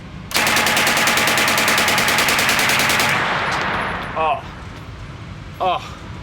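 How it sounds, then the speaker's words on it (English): Beretta PM12 submachine gun firing a sustained automatic burst of about three seconds at a moderate rate, loud and close, followed by a quieter stretch with faint voice fragments. "If you want to know the absolute pleasure of shooting a PM12"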